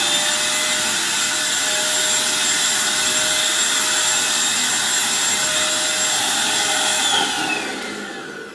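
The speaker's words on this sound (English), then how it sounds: "You can go ahead and just vacuum this really easily." A Eureka NES215A stick vacuum cleaner runs with a steady, loud high-pitched motor whine and airflow roar, holding constant close up before winding down at the end.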